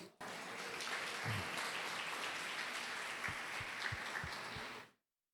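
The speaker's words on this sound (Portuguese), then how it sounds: "Você pode aplaudir Jesus?" A church congregation gives dense, continuous applause for about five seconds. The steady wash of many hands clapping holds at an even level, then cuts off abruptly.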